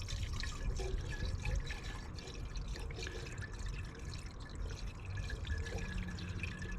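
Coolant pours steadily into a Range Rover engine for several seconds with a continuous gurgling splash, close and fairly quiet, no voices.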